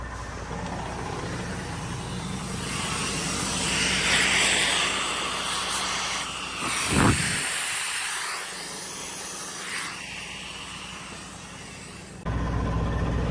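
A truck's trolley brake is pulled, sending a loud sharp hiss of air through the trailer air brakes against a steady engine drone, close by with no talk.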